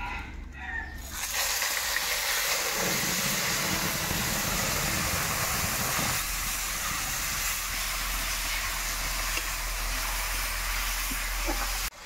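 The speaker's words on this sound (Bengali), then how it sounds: "পেঁয়াজ সুন্দর কষিয়ে নিয়েছি।" Onion paste fries in a pan with whole garam masala, bay leaf, dried red chilli, cumin seeds and black peppercorns, giving a loud, steady sizzling hiss that runs unbroken for the whole stretch after a brief quieter start.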